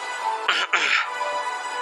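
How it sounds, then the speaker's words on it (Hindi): A brief two-part throat clearing, close to the microphone, over a steady low background hum. "उसे दोबारा अपना गला साफ करके कहा"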